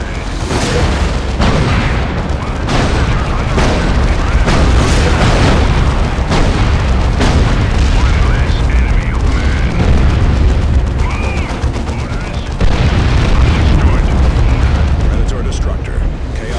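Dense, continuous battle noise from the video game Dawn of War II, with explosions, cannon and missile fire rumbling loudly throughout, and a voice speaking over the din.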